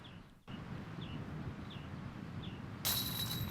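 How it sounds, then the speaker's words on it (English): Steady wind gusting across an outdoor disc golf course during a tournament round, a broad low rush with faint bird chirps above it and a sharper burst of noise near the end. "Looks like the wind maybe picked up for this shot."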